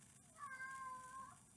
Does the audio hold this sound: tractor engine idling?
no